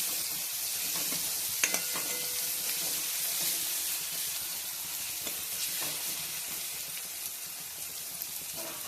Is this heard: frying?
yes